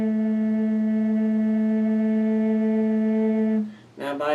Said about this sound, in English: If you didn't do the vibrato sound, it would sound like this.